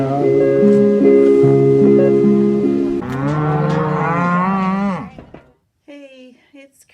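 Cattle on a ranch moo loudly and close by in long, overlapping drawn-out calls that pile up for several seconds, then give way to near silence and a few fainter sounds.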